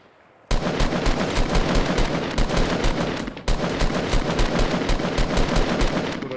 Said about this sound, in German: Hier wird geballert in dem Holzturm